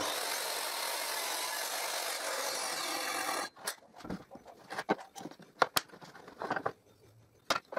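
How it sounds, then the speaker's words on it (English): A circular saw whines steadily while cutting a wooden hanger held in a jig, then shuts off, leaving a run of scattered knocks and handling clatter. "and I cut the hanger."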